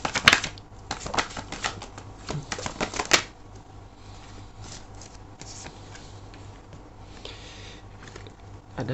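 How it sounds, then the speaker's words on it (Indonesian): Tarot cards drawn and laid out, a burst of quick papery snaps and taps up close in the first few seconds, then a long quiet stretch with only faint handling noise. "Aku akan ambil 2 kartu lagi."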